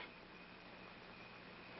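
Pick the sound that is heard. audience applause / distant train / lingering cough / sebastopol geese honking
distant train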